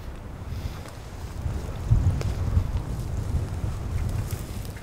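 Strong wind blowing outdoors at night during a woodcock ringing outing, a steady low rumbling gust noise buffeting the microphone, loud and continuous with a brief stronger surge midway.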